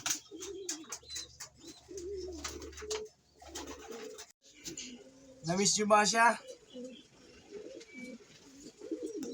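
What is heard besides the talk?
pigeon cooing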